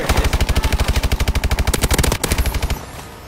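Rapid automatic gunfire from Call of Duty: Advanced Warfare, a loud, steady burst of evenly spaced shots lasting nearly three seconds before cutting off into a brief fading tail.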